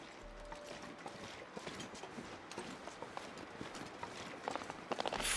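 Soft, irregular footsteps of a bear in The Long Dark, thudding faintly and unevenly over a low ambient hiss, with a few sharper steps near the end.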